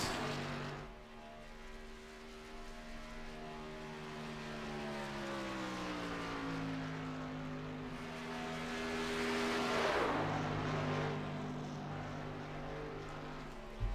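A race truck engine at Chicagoland in the Northwest Truck Series drones steadily with shifting pitch, rising and falling as it passes, loudest around the middle before settling back to a steady hum.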